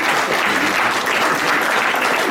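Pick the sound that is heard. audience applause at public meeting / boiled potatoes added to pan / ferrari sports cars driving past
audience applause at public meeting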